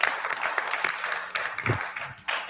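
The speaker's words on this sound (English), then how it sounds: "Or a little round of applause." A small group at a team meeting gives a short round of applause, with scattered hand claps close by that rise and fall over a couple of seconds.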